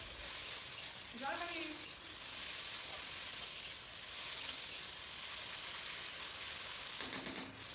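Dried chilli and cumin paste frying in a pan for a village-style desi chicken curry, a faint continuous sizzle with a brief utensil scrape and light background noise.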